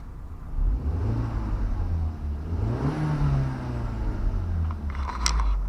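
An Audi A4 1.8 turbo engine rumbles steadily up close, then revs up briefly and settles back down, a low droning hum throughout.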